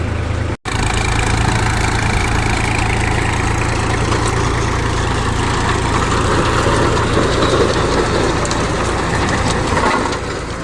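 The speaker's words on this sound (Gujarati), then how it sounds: "આ રીતનું હાલે ટ્રેક્ટર।" A New Holland 5510 4WD tractor pulling a 7.5-foot Agrikarm rotavator runs with a loud, steady diesel drone and low rumble, heard close and alone throughout.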